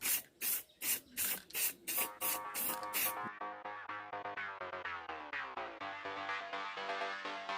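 A spray paint can hisses in a quick series of short rhythmic bursts, then a steady whirring mechanical tone takes over, close and moderately quiet, while painting a fish tank made from an old tyre.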